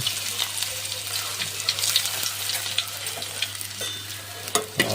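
Garlic sizzles as it is dropped into hot oil in a pan, a close, steady crackle with occasional sharper pops and faint stirring, and no talking.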